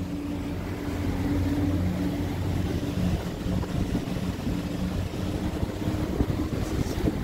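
The engine of a 2004 Century 3200 boat runs steadily and quietly, a low hum under heavy wind and water noise, with no talking.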